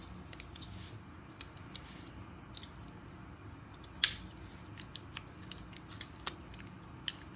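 A cutting tool snips into the plastic housing of a Brinkmann Qbeam spotlight, model 800-2801-S, giving sporadic sharp clicks and crunches, close up and quiet.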